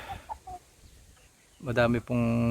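A Rhode Island chicken clucks close by, short soft clucks at first and then a louder, drawn-out run of calls, with a voice partly overlapping.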